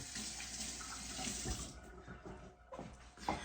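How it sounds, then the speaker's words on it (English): Tap water runs steadily into a kitchen sink as hands are washed, a close hissing splash that briefly breaks and shifts near the end. "Wash my hands."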